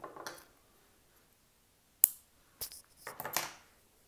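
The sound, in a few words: scissors cutting crochet yarn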